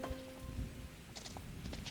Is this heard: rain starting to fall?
yes